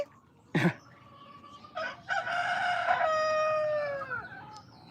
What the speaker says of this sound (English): Where are the chickens? There they are.